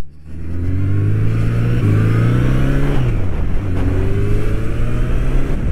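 A Honda CB1100 air-cooled four-cylinder 1100cc motorcycle engine revs hard up close, its pitch climbing through gears with a brief drop at each shift, loud and continuous.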